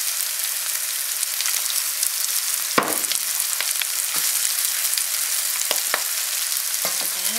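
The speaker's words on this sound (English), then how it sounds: "Add a little bit more oil to pick up all those crumbs off the bottom." Oil sizzles steadily in a pan after chicken fingers are fried, with a few sharp scrapes and knocks of a utensil picking up crumbs from the bottom, close and loud with no talking.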